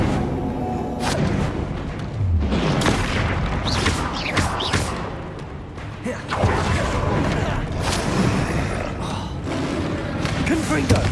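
Repeated Confringo spell blasts in the Hogwarts Legacy video game, booming thuds and bursts going off in quick succession through a busy combat mix, loud and continuous with a voice talking over them.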